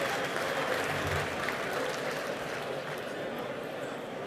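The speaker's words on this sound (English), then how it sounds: "A big round of applause, please," A crowd at the Finke Desert Race claps for the event's sponsors, a broad, steady wash of applause heard from a distance for several seconds.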